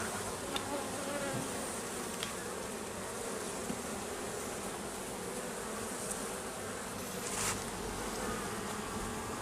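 Dense honeybee buzzing fills the air as nucleus colonies are moved into full hives, a steady close swarm hum with faint rustles and no talk.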